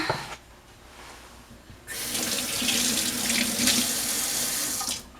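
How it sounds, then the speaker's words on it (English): Water runs from a kitchen tap to rinse something off while baking brownies, starting after a short quiet pause as a loud, close, steady gush that continues for a few seconds and then cuts off. "We'll rinse this off."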